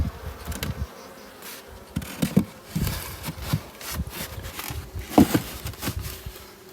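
Honey bees of a small queenless colony buzz steadily around an open hive during a beekeeping session, a continuous near drone with occasional louder swells and knocks of frames being handled.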